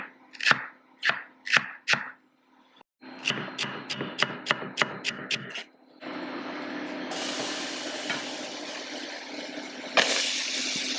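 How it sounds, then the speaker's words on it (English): Celery chopped with a knife on a cutting board: quick, crisp rhythmic cuts in two close bursts, first four strokes then a faster run of about eight, loud and near with no talking. "let's chop this celery now"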